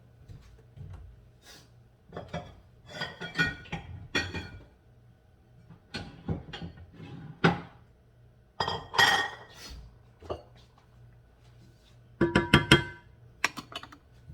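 Glass bowls and dishes clink repeatedly in a kitchen while cream for crème brûlée is transferred into one big bowl, with sharp, bright chinks in irregular bursts and quiet pauses between them.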